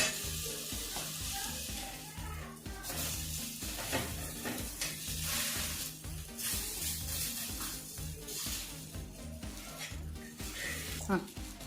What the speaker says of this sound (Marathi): आता एका बाजूने याला छान शॅलो फ्राय करून घेऊ